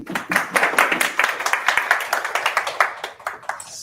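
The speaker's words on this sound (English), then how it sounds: "please have applause" Audience applause at an evening English-language tech lightning talk on development productivity, a dense stretch of steady clapping from many hands that swells and then gradually thins out toward the end.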